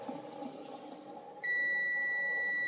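A continuity tester checks the motor coils of a repaired Dremel 3000 rotary tool: after a faint background hum, a single steady electronic beep starts partway through and holds loud and unbroken to the end.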